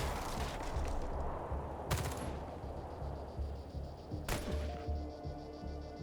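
Soldiers trading fire in the video game Xenonauts 2: two sharp gunshot bursts stand out over a dense, continuous layer of rumbling battle noise, loud and busy throughout.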